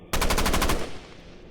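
Rapid burst of gunfire in a narrated horror tale, about seven sharp, evenly spaced shots fired in quick succession, loud and close, then a fading reverberant tail into a hush.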